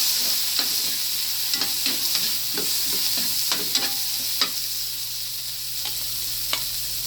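Vegetables sizzle steadily in a frying pan while being stirred, with a continuous hiss and scattered utensil scrapes and taps throughout, close and unaccompanied by voices.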